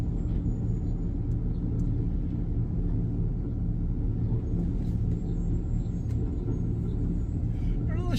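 Road traffic rumbles steadily around a vehicle driving through Gainesville, a continuous low drone of engines and tires with faint passing swells, heard from inside the car.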